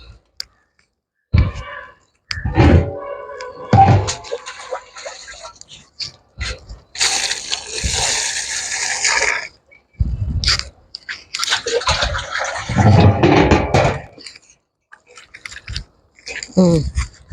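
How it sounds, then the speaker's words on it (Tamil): Water is poured onto potted portulaca and table rose plants in a home garden, giving several separate splashing bursts, one longer gush in the middle and shorter pours later, with handling noises between them. "நம்ம இதுக்கு தண்ணி ஊற்றிக்கலாம்"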